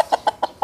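Free-range chickens near Iwatsuki cluck close by in four short, evenly spaced clucks, loud and clear with no talk.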